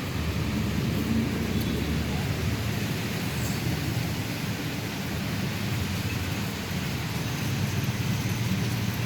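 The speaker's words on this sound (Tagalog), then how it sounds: "walk in the rain." Steady rain falls around someone out walking on a rainy day, a dense, even hiss of drops on the ground that stays close and constant throughout with no other clear sounds.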